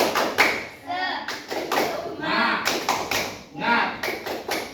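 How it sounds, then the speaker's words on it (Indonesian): Classroom group doing a rhythmic spirit clap, sharp patterned hand claps and taps in quick bursts, mixed with children's voices chanting along. "kelompok 1, tepuk semangat"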